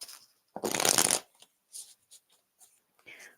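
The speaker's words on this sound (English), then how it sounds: "I like an old riffle shuffle." A quick riffle shuffle of playing cards makes one loud, dense fluttering burst, followed by a few soft taps and card handling noises.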